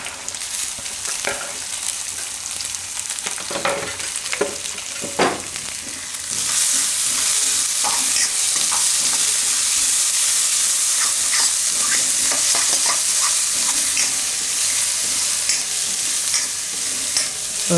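Chopped vegetables are stir-fried in a pan with ginger for suji cutlets, with intermittent stirring clatter at first and then a loud, dense sizzle that surges and holds, punctuated by scraping strokes.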